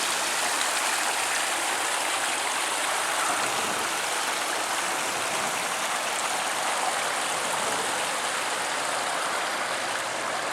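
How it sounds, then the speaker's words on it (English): A garden waterfall at a desert cactus nursery pours in a steady, full rushing splash, close and unchanging throughout, with no talking. "Here's our waterfall."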